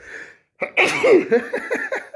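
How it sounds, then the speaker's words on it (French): A single loud, close sneeze from a person, preceded by a brief quiet breath and followed by sniffing and shaky exhalations. "je vais peut-être éternuer"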